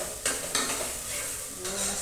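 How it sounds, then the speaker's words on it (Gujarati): Chutney is stirred and sautéed in hot oil for a cluster bean curry: a soft steady sizzle with a few sharp scraping strokes of a spoon against the pan, close by and with no talking. "અને ચટણીને આપણે બરાબર તેલમાં મિક્સ કરી અને થોડી વાર માટે સાંકળી દઈશું."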